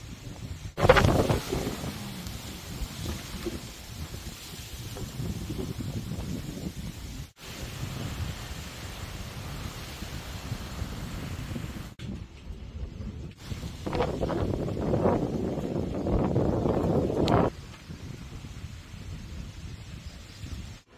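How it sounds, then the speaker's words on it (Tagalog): Gusty wind roars and buffets the microphone outdoors, rising and falling in strong surges with a louder burst near the end. "Sumisipol yung hangin."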